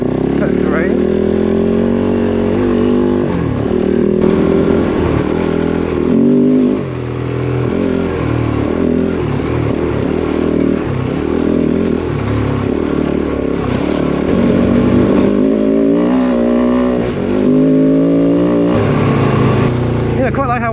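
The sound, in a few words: Kove 450 Rally motorcycle riding offroad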